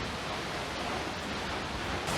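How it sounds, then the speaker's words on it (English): Up close behind a waterfall in southern Idaho, falling water makes a loud, steady, broadband roar with no break. "Not only do I get to walk behind a waterfall"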